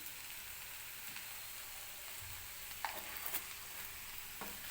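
Okra stirred with turmeric and asafoetida in a frying pan, giving a faint, steady sizzle with a few soft scrapes and taps of the spoon.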